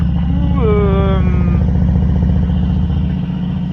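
A motorcycle engine idles with a steady low rumble, while a person speaks over it briefly near the start.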